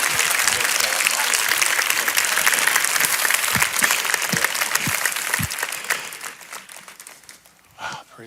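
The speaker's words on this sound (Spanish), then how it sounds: "will you give them a hand" An audience applauds for a book's authors, sustained loud clapping from a sizable crowd that fades out over the last few seconds.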